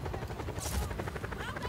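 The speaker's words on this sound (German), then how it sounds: "Wo ist der Helikopter? Wo ist der?" A helicopter in the Just Cause 4 video game whirs with a rapid rotor chop, moderately close and steady throughout the short moment.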